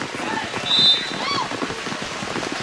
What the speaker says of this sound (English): It's pouring at USC.